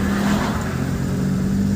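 A car accelerates gently in first gear during a driving lesson, its engine a close, steady, even drone throughout.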